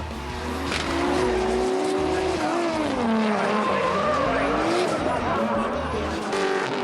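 Drift cars screech their tires through a Nissan S14 versus Rocket Bunny RB30-powered S13 drift battle at a D1NZ round in Taupo, with wavering squeals and engine roar under loud commentary.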